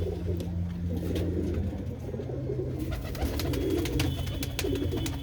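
A pair of blue pigeons cooing, low rolling coos repeating steadily and close, with light rustling and clicks around them.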